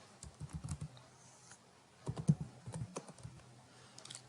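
Someone types on a computer keyboard in two short bursts of quick, close key taps with a pause between them.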